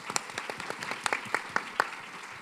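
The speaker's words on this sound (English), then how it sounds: "Let's give our panelists a round of applause." Audience applause for a panel at a corporate kickoff event, a steady patter of many hands clapping with sharper individual claps standing out, moderately loud and without speech.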